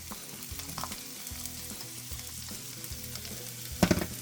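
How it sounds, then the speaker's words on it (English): Onions frying in a pan for a healthy home-cooked dish, a low steady sizzle close by with a sudden louder burst of crackling and clatter near the end, no talking. "Now it's time to go ahead and add in the onions"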